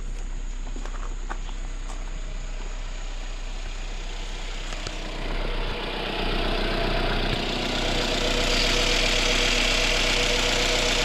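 Jeep Cherokee Trailhawk engine running after an alternator replacement, a steady close idle hum with light ticking that broadens into a louder, hissier rush partway through, with no talking.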